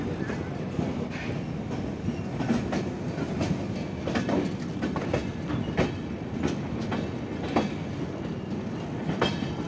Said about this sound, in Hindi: हम लोग की ट्रेन राजमंड्री से डिपार्ट कर रही है